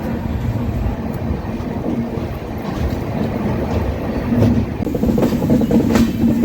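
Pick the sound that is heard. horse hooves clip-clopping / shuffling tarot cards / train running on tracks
train running on tracks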